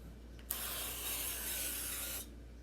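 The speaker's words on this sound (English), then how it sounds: "so I'm just going to use this non-stick cooking spray" Non-stick cooking spray hisses into a muffin pan in one steady burst of close aerosol spray lasting under two seconds, with quiet before and after.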